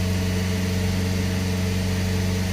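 A Nissan Z24E engine runs steadily at about 2700 RPM, a loud, continuous even drone with a constant pitch and no talking.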